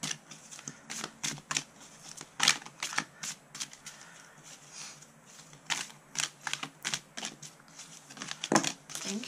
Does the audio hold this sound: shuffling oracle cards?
yes